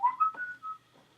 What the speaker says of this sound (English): One of my favorites is the whistle,